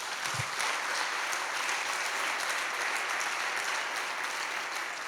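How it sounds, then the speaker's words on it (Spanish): A church congregation applauds steadily and loudly for several seconds, a dense continuous clapping without pause, with a faint voice barely present beneath it. "Den un aplauso al Señor."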